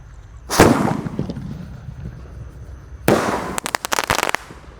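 A large 5-inch Bima Sakti firework launches outdoors with a sharp, loud whoosh and blast, followed a few seconds later by another burst and a rapid string of crackling pops.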